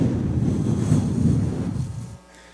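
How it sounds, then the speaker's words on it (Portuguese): Wind buffets the microphone in a strong, continuous rushing gust that holds for about two seconds, then suddenly drops to a much quieter hush, with no talking. "E o vento, ó."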